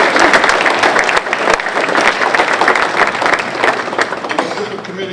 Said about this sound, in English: So I'd like a special round of applause for this.